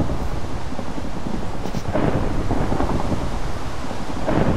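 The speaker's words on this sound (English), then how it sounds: "let's watch this rainy night just pass by" Steady rain pours on a stormy night in the Minecraft video game, with a low continuous rumble of thunder beneath the hiss and a brief faint high tone near the middle; no voices.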